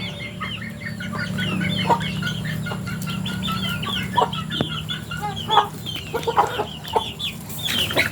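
Chickens clucking and chattering while being fed, several birds close by with overlapping calls that grow busier and more excited toward the end, over a low steady background hum.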